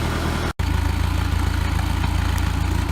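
A 1976 Starcraft boat's engine, fitted with a Pertronix electronic ignition, idles steadily and smoothly with an even low throb, loud and close, broken only by a brief dropout near the start.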